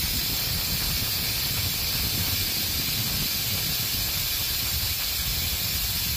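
Steady broadband hiss of air bleeding from a trailer's suspension leveling valve as the air bags deflate, continuous and fairly close for several seconds with low rumble underneath and no voices.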